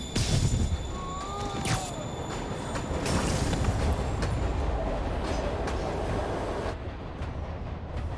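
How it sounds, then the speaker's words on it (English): Train in the Spider-Man video game rumbles steadily along the tracks, a loud continuous rolling roar with rattling, metallic squeals and clanks throughout. "Train moving."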